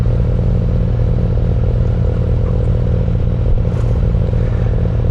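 A Suzuki GSX-8TT motorcycle is ridden at a leisurely pace on a demo day, its engine giving a steady low rumble with wind and road noise that stays even throughout.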